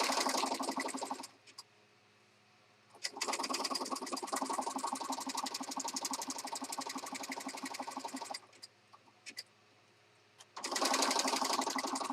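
A sewing machine stitches lace onto an oversized blue and pink handmade journal, running in steady fast bursts of needle clatter with short pauses between runs, close and loud with no talking.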